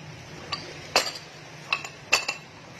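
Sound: metal pots clinking while being handled

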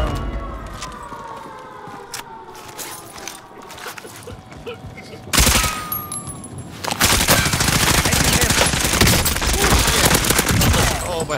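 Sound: gunfire from players in video game Call of Duty Warzone

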